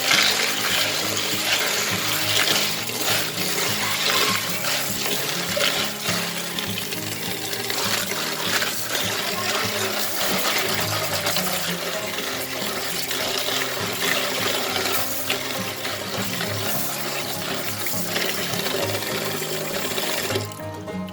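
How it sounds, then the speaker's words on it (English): Running water streams steadily from a tap while beans are rinsed and swished around, a continuous close splashing with no talking. "So I'm going to wash the beans."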